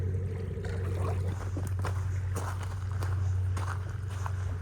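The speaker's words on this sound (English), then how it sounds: "The drone of the engines of that tug." A tugboat's engines drone steadily across calm morning water, a low continuous hum near at hand, with scattered footsteps and light rustling on top.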